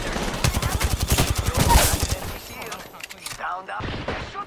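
Rapid bursts of gunfire rattle through an Apex Legends fight, dense and loud at first and then thinning into scattered shots, with voices talking over the action.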